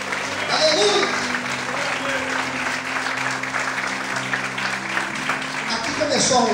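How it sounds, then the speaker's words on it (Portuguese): Church congregation applauding during a Portuguese-language sermon, a steady, dense wash of clapping that runs the whole time, with a voice talking and music tones underneath. "Que pode aplaudir Jesus, que pode glorificar o Senhor."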